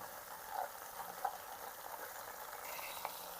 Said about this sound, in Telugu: బాగా ఈ గోంగూరను కొంచెం నూనెలో మగ్గనివ్వాలి.